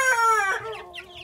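A Rhode Island Red rooster crows loudly up close, a long drawn-out call that breaks into a few short clucks at the end.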